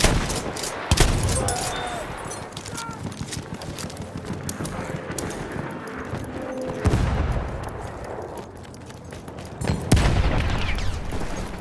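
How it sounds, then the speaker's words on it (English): Enemy machine gun fire in a Battlefield video game, with rapid bursts of shots over a dense, loud battle din and several heavy booms, close and continuous. "That's an enemy machine gun!"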